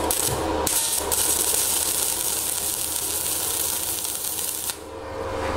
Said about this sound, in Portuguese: Então eu vou ligar essa máquina aqui.